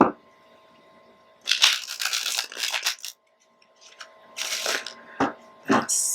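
Tarot cards are shuffled by hand in short riffling bursts, close and crisp, with quiet pauses between, while a person talks.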